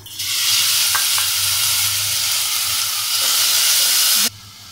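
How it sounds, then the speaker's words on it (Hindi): Onion fries lightly in a small amount of oil for samosa mince filling, giving a loud, steady hiss that cuts off suddenly near the end, with no talking. "1-2 मिनट प्याज को हम सिर्फ हल्का सा फ्राई करेंगे।"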